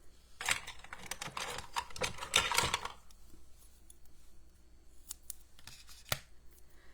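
Scissors cut foam dimensional adhesives in half at close range. A quick burst of crisp snipping and clicking runs for about three seconds, followed by quieter handling noises and one more sharp click.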